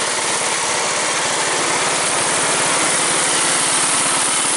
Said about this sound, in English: that's probably the best, hardest cold start I did on this tractor